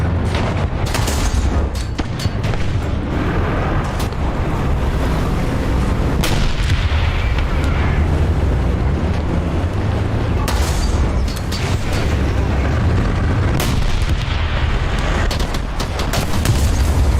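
Heavy gunfire and explosive booms in a dramatic battle scene, a dense barrage of shots and blasts rolling continuously at loud volume with no clear pauses.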